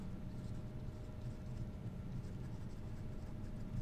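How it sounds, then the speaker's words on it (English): Writing on a board during a physics lecture on measurements and units, a faint steady scratching and tapping of strokes against a quiet room background. "let me write down over here the measurements"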